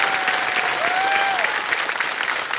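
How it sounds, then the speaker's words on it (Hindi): A television game show studio audience on Kaun Banega Crorepati applauds steadily and loudly throughout, dense clapping with a faint whistle-like tone rising briefly over it. "तो एक बार फिर जोरदार तालियां हमारे आज के विशेष कार्यक्रम के"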